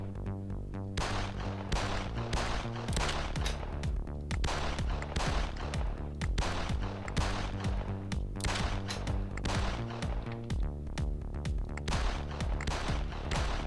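Rapid bursts of auto shotgun fire in the video game Gun Chair, loud and nearly continuous for the whole stretch, blasts overlapping densely with game music or tones running beneath.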